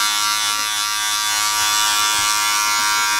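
Electric hair clipper buzzing steadily and close during a boy's haircut, a continuous bright motor whine with no talk over it.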